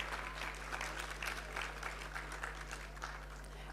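Applause for graduating students at a convocation ceremony, steady crowd clapping heard faint and distant over a constant low electrical hum.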